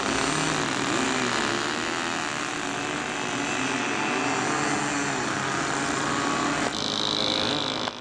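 A model airplane engine drones as it flies very low overhead, a steady buzzing whine with slight pitch swells as it passes, fairly distant and continuous, with a brief change near the end.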